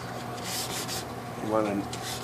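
Rhythmic dry sanding strokes rasp back and forth against a car's hard clear coat, close up, knocking down runs and scratches, with a brief voice murmuring midway.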